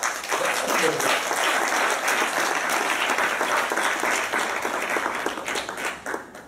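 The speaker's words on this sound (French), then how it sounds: "Madame Conan Clémence, que j'aimerais qu'on acclame véritablement" An audience at a ceremony claps in sustained, dense applause that fills the space, then gradually thins and fades toward the end.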